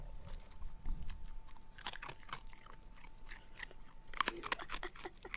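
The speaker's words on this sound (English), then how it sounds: "ASMR fox crunching" A fox crunching and chewing food up close, in ASMR style at an animal sanctuary; repeated crisp bites and crunches in uneven bursts, fairly quiet, with a faint steady hum underneath.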